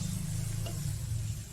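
Fuchka puris fry in hot oil with a steady, close sizzle that holds even and unbroken from start to end, with no talk over it.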